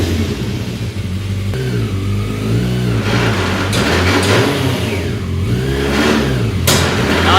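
A motorbike engine swapped into a van, idling loud and close, then revving repeatedly in rising and falling surges with a steady mechanical drone underneath and no talking.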